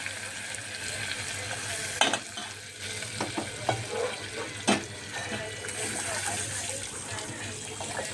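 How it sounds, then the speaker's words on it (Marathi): A tempering of curry leaves and asafoetida sizzles in hot oil while being stirred, a steady close frying hiss broken by a few sharp spoon knocks and scrapes against the pan. "आता थोडंसं आपण हलवूया त्याला आणि आता आपली फोडणी तयार आहे"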